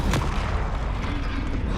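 A magical spell burst from Expelliarmus cast in Hogwarts Legacy, a single sharp booming hit at the start followed by a rumbling tail of game noise.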